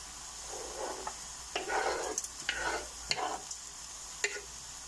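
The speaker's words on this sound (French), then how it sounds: "On va laisser mijoter sur le fourneau." A fish mixture of assorted salted and smoked fish simmers on a stove, giving a soft steady sizzle with intermittent stirring scrapes, moderately faint and with no talking.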